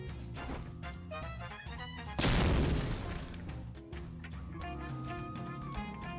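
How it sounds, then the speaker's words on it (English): A single loud grenade blast booms in the video game Troubleshooter: Abandoned Children, bursting sharply over background music and then fading as the music carries on. "Have a grenade."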